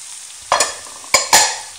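Grated courgette and coarsely grated carrots frying in a pan, a loud close sizzle with several sharp stirring scrapes and clatters, no voices.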